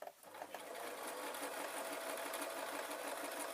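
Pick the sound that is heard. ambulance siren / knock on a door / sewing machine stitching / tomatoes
sewing machine stitching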